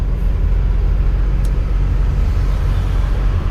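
An old Hino truck with a 185 hp HO7C engine hauls two bus bodies uphill, producing a heavy, steady, close engine rumble that stays loud and even throughout, with no talking.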